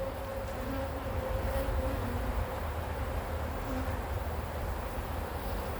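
Honey bees buzz steadily around an open beehive outdoors during queen marking, a dense continuous drone with a faint higher whine of individual bees close by, no talking.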